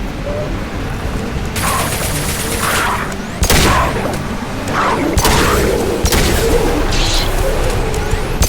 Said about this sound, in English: Firing an impact shot.